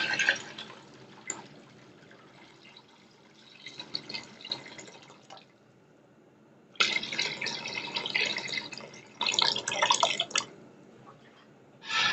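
Water pours into a cooking masala for chana dal pulav in two bursts of splashing, liquid rush, the first softer and the second louder and fuller, with a quiet gap between them.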